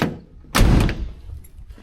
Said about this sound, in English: Get over to this driver's side and shut the door.